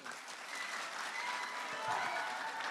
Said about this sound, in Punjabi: ਤੁਹਾਡੀਆਂ ਤਾਲੀਆਂ ਦੀ ਗੂੰਜ ਇੰਨੀ ਹੋਣੀ ਚਾਹੀਦੀ ਕਿ ਇਹਨਾਂ ਦੇ ਕੰਨ ਤਾਜ਼ਾ ਹੋ ਜਾਣ।